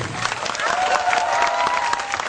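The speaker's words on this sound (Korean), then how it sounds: "다시 한번 주인 단원들에게 경례의 박수를" A crowd claps steadily, a dense burst of applause throughout, honoring a tumbling troupe at Everland theme park.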